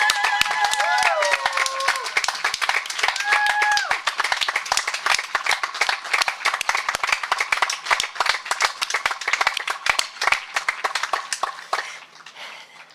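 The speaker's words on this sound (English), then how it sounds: "So please give one final round of applause for all the incredible staff and the" Sustained applause and clapping from an audience at a 2020 high school graduation ceremony, dense and steady for about twelve seconds before thinning out, with a few voices briefly audible early on.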